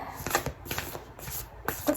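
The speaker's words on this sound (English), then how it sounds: "I'll shuffle 3 cards and we'll see." A few cards are shuffled by hand, giving short papery riffling bursts that repeat about three times. The bursts are close and clear, and nobody talks over them.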